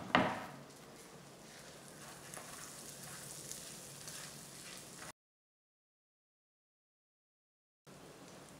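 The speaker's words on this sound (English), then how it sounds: "So I'll add a little bit of my sesame seed oil. Yeah, in goes my pepper and onions." Peppers and onions hit hot sesame seed oil with a sharp initial hiss that settles into a steady soft sizzle, then a few seconds of total silence before the frying resumes briefly.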